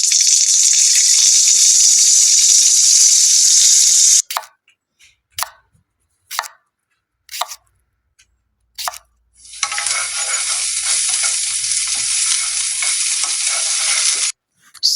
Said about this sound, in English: For the frying part, we're going to fix in the sound effect for the frying part.